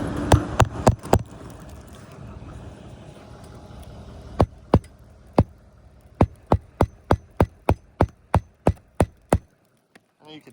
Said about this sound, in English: the granules are pooling up in here that are falling off this roof as we're hammering in